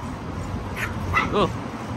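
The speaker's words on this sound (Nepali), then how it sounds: "कुकुर पनि कराउँछ, ख्याउ ख्याउ गर्छ" A dog gives a few short, high yips and whines close by over a steady background hum, in Fukuoka, Japan.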